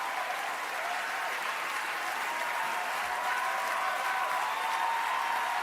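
Audience applause fills the whole stretch, a dense, steady wash of many hands clapping at even loudness throughout.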